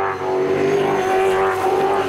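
A V8 supercar at the Townsville 400 race powers out of a tough corner while struggling for traction, a loud, close, sustained engine howl with a strong steady tone and no talk over it.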